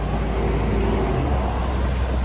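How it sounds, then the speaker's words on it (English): Two noisy pickup trucks pass each other on a road, a loud, close, continuous engine and tyre roar whose pitch shifts partway through as the vehicles cross. "two noisy truck pickups passing each other."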